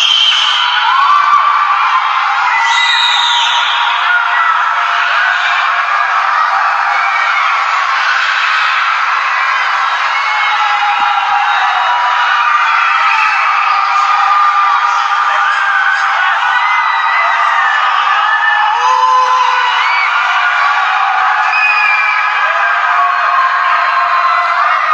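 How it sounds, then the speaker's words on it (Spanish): A continuous mass of people screaming and yelling to one another from apartment windows during a city quarantine lockdown in Wuhan, many overlapping voices echoing from a distance, steady and loud throughout with no single voice standing out. "Chinos que gritan entre ellos, vamos Wuhan, tú puedes"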